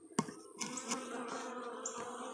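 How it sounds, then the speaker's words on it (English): Honey bees buzz densely and close by inside a packed hive, a steady humming drone with brief louder knocks and shifting pitches, no voices. "there's a lot of bees in there"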